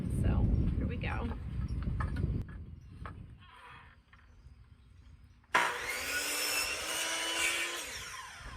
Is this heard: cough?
no